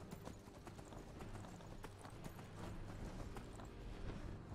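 Horse hooves clip-clop in the video game Skyrim, a steady, fairly close trotting rhythm that continues throughout with no talking.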